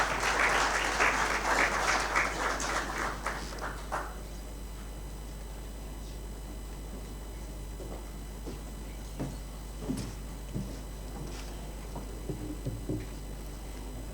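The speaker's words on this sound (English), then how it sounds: "Let's give it a round of applause." A conference audience claps for about four seconds, dense and fairly close, then the applause fades into quiet room tone with scattered faint knocks and shuffles.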